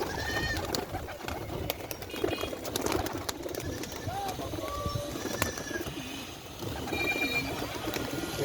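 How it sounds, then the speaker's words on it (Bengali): Giribaz pigeons coo softly at a pigeon house, low repeated calls layered over a busy background with other birds chirping and faint voices. "দেখুন সব পায়রাগুলো।"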